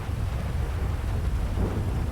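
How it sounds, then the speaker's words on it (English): Low, sustained thunder rumble inside a video game rainstorm, with steady rain hiss throughout and no clear sharp crack, loud and continuous for about two seconds. "we got thunder."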